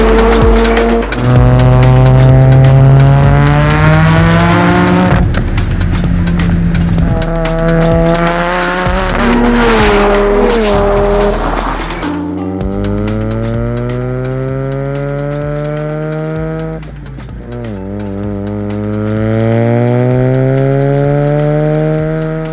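A 500whp single turbo Mazda RX-7 rotary accelerating hard, loud and close, the engine note climbing steeply through several gears with brief dips at each shift and a raspy, buzzing edge throughout.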